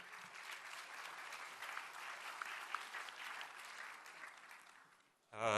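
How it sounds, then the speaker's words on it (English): Crowd applause at a plenary session of a conference on palm oil markets, steady and moderately distant for about five seconds before fading, then a brief electronic tone at the end. "Let's give them a big round of applause"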